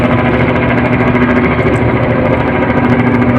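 Engine of the passenger launch MV Sundarban 16, a large four-deck river vessel, drones steadily and loudly throughout, a dense, unbroken low rumble with no pauses.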